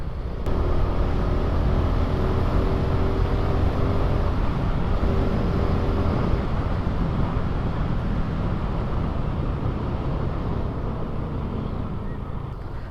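A Honda XRM fuel-injected motorcycle engine running as it shifts into second gear, a steady close low drone and rumble holding throughout with no voices over it.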